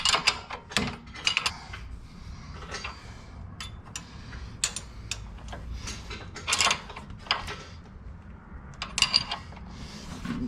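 A ratchet tightens a bolt during a lift install on a Jeep Renegade, making a series of sharp, close clicking bursts in irregular groups, with quieter mechanical handling noise in between.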